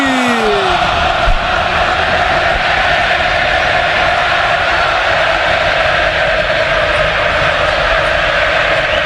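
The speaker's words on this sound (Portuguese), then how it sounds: "E a torcida do São Paulo faz a festa, jogo mandante é o São Paulo Futebol Clube, canta a torcida do São Paulo" São Paulo supporters chant in the packed Morumbi (Cícero Pompeu de Toledo) stadium during a Campeonato Paulista match against Corinthians, with a steady, dense crowd roar that holds loud and constant throughout.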